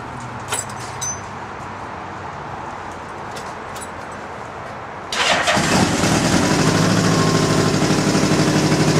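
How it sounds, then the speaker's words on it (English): A custom motorcycle engine turns over and fires up about halfway through, after a quiet stretch with faint background noise, then settles into a loud, steady, close idle. "Matter of fact, I'll fire it up for you right now."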